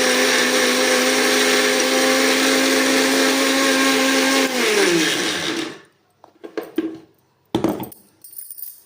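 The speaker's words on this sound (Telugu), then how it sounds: "వేసేసుకొని గ్రైండ్ చేసుకుందాం" A kitchen mixer grinder whirs loudly and steadily as it grinds pulses with salt in a mixie jar for chutney, its motor pitch dropping as it winds down and stops, followed by a few clattering knocks of the jar.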